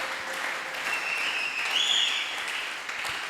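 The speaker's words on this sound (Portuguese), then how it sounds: "On peut acclamer pour le Seigneur." Scattered clapping from a church congregation continues under a faint whistling tone, moderately loud and steady.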